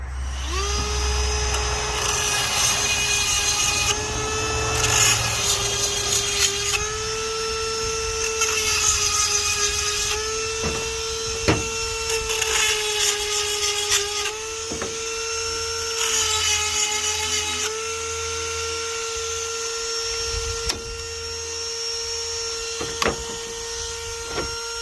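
A HiPa saw chain being touched up with a sharpening grinder, giving a steady high whine in repeated passes of a few seconds each, with short pauses and clicks between strokes, close and fairly loud.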